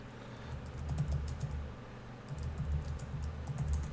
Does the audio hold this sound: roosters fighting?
no